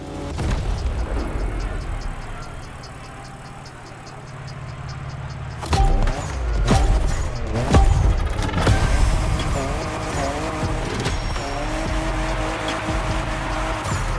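A 2021 Toyota Super Drift Edition in The Crew Motorfest racing game drifts with loud engine revving and repeated tire squeals, backed by steady music throughout, with sharp bursts and skids in the second half.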